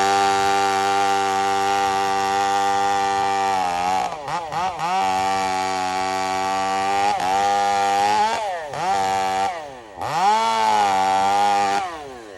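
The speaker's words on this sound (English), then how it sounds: "He was trying to buck like a 10 or 12 inch round of wood." A chainsaw bucks a small 10 to 12 inch round of wood. The engine drones loudly and close at high revs, repeatedly dipping and bogging down under load before climbing back, with no talk over it.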